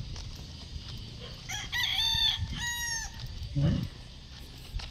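A rooster crows loudly close by over a background of clucking chickens and faint farmyard noise.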